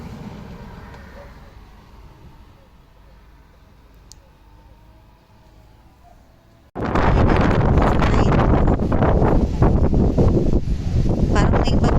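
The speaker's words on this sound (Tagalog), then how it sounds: "Parang may bagyo, day. Grabe, lakas ng hangin." Storm-strength wind in Poland, starting as a low rumble before a sudden violent gust slams into the microphone halfway through and keeps roaring loudly in rough bursts to the end.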